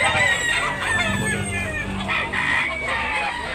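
Gamefowl rooster of claret bloodline, a bullstag, crowing amid a busy Cebu cockfighting market, its calls rising over a steady background of crowd chatter and other birds.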